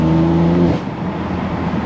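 A BMW M4 engine on London streets, revving hard with a steady, loud tone that drops away after the first moment, leaving a lower rumbling drone.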